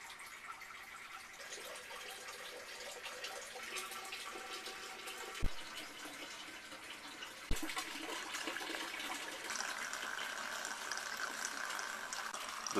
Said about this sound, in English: the pump turned on, so we're just going to watch this fill up for a little bit